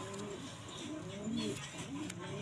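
A large male pigeon coos softly in low, rolling murmurs, faint and close, while a person talks over it.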